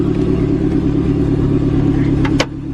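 An SRT4-swapped Dodge Caravan engine runs loud and steady nearby, a thick droning hum with a brief sharp clatter near the end, no talking.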